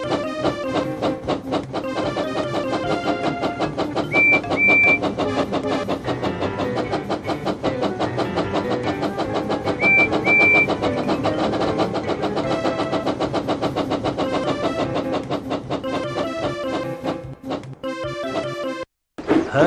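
A steady, loud video-game soundtrack runs throughout with a continuous engine-like drone from Percy the engine racing fast in a Thomas and Friends game, ending in a brief drop near the end.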